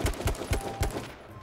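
Rapid bursts of gunfire from the H1Z1 battle royale game, about four heavy low thumps spaced roughly a quarter second apart with crackling tails, fairly close and fading toward the end, with no talk over them.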